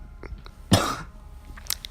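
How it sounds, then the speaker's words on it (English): A single close, husky cough breaks a quiet stretch, one short harsh burst with faint room noise before and after. "And that's my first cough of the whole video."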